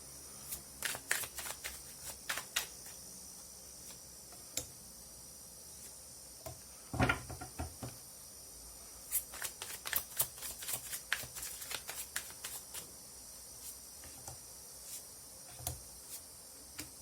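Tarot cards are drawn from a deck, producing quiet, close clicks and light card snaps in irregular bursts with one louder handling thump midway, no speech.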